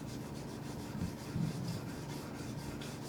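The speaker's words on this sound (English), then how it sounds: "this was the only way that I could find to actually hold the guard so that I could sand it" Hand sanding of a Damascus bowie knife guard: a steady, soft abrasive rubbing that continues without a break, with a few slightly louder strokes partway through, close by and with no voices.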